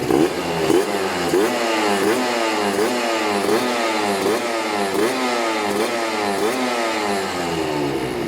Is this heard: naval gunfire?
no